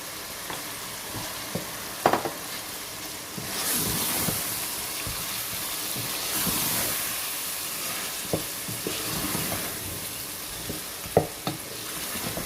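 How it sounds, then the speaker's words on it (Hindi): Vegetable pulao mixture with yogurt fries in a pan, a steady broad sizzle running throughout with occasional sharper pops and stirring scrapes, close and fairly loud, no talking. "अब इसको दही से भी 2-4 मिनट तक भूनेंगे, तकरीबन 3 मिनट तक"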